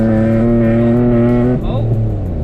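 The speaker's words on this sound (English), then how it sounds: "Let me see what happens if I floor it." A 1991 Mercedes-Benz 300CE's engine is floored to full throttle, a loud, steady, strongly harmonic drone that suddenly drops and shifts pitch partway through, with the car close and the engine filling the sound.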